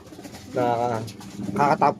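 Young racing pigeons coo at a training loft in Sariaya, Quezon, with a few soft, throaty calls up close, the last two short bursts coming quickly one after another.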